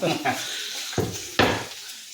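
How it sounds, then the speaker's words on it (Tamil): Tomatoes, potatoes and onions sauté in a pan, giving a steady sizzle broken by a few sharp scrapes of stirring, fairly close and with no talk. "இன்றைக்கி நாங்கள் பர்ச்சேஸ் பண்ண தக்காளி, உருளைக்கிழங்கு, வெங்காயத்தை வதக்கிக்கிட்டு இருக்கோம்."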